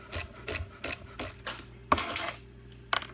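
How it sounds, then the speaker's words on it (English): A knife chopping celery very finely on a cutting board: a quick run of evenly spaced, crisp cuts, close and fairly soft, then a sharper knock and a few scattered taps. "So we're chopping our celery very fine."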